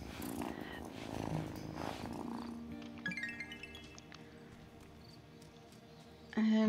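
Cat purring softly in the Wylde Flowers video game, a faint low rumble across several seconds under light game sounds, followed by a louder tone near the end.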